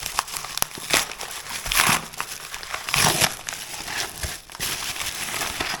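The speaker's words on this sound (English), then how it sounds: "All right, we're going to very lightly cut this open." A plastic package holding aftermarket fuel injectors being carefully cut open, giving close, loud crinkling and crackling of plastic in irregular bursts without talk.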